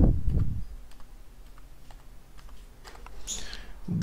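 A command is typed on a laptop keyboard in a quiet room, a light scatter of separate key clicks at an uneven pace with a few faint taps close together.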